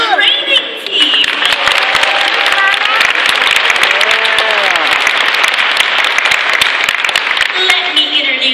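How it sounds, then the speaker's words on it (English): Audience applause fills the stands at a whale show at Shedd Aquarium, loud dense clapping with whistles and cheers rising over it, steady from start to finish after a brief dip near the beginning. "let's get a big round of applause for our training team"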